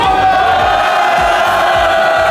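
A large audience cheers and shouts together, a loud, dense wall of crowd noise with whoops, sustained throughout.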